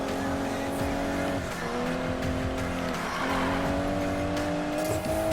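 Supercar racing through traffic in the video game Need for Speed Payback: a loud, sustained engine drone with shifting pitch and brief tire squeals, continuous throughout with no talk.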